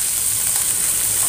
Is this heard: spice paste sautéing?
yes